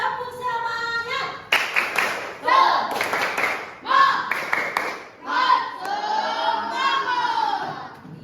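Children at a classroom activity perform a spirit clap (tepuk semangat), with bursts of rhythmic group clapping and thumps mixed with loud chanting and shouted voices, close and lively.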